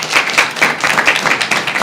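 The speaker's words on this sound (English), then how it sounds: "Please clap for him." An audience at a university tech event claps in a quick, close burst of overlapping hand claps that stays lively for the whole moment.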